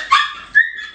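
A dog gives two quick, sharp barks close by, each a loud yelp followed by a brief trailing whine.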